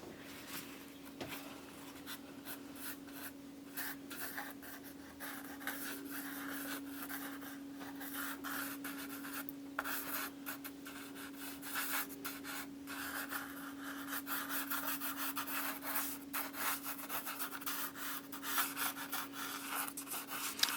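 Soft pastel stroked across paper taped down with acid-free artist masking tape, blocking in grass with a dark blue stick: steady, soft rubbing scratches repeating for the whole stretch over a faint constant hum, with no talking.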